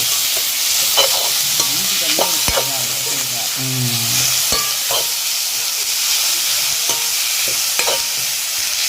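Beetroot for Jaffna-style beetroot varai sautés in a pan, a continuous close sizzle broken by repeated scraping and clinking stirs over about nine seconds, with no talking.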